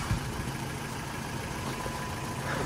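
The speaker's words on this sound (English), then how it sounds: "So now I'm just letting the engine warm up" A Ford Focus 1.6 mk3 petrol engine with a ticking fault idles while warming up before a service: a steady, low, even hum at moderate level, continuous and alone with no talk.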